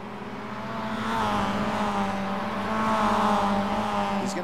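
A Mazda MX5 race car engine in a racing video game holds a steady, loud drone at the Winton Motor Raceway. The pitch climbs and falls gently with revs, with no voices over it.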